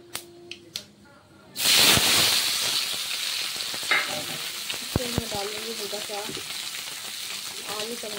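Panch phoron spices hit hot oil with a sudden loud sizzle that keeps hissing steadily, while a spoon scrapes and taps the pan. A few light clicks come before it starts.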